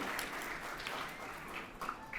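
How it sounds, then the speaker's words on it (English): Faint applause from a graduating high school class at their ceremony, a soft steady patter of many hands heard from a distance. "So let's give ourselves a round of applause"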